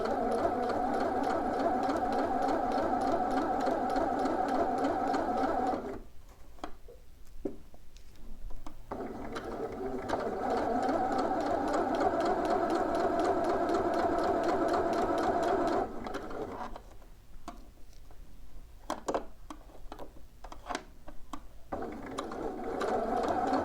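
A sewing machine stitching a seam on McCall's 7908 shorts, with two long stretches of steady whirring interrupted by pauses of sparse clicks and ratcheting, close and without talk.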